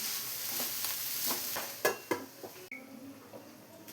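Cabbage cooks in a covered pan over a low flame, giving a soft continuous sizzle with a few light clinks and taps of the pan and lid.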